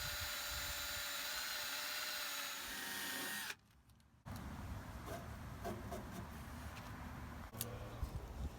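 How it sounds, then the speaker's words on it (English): A power drill bores out plexiglass on a 3-inch scale Davenport diesel model locomotive, a steady loud whine running for several seconds, cutting out briefly, then resuming with a rougher, busier grinding tone. "I drill out the plexiglass"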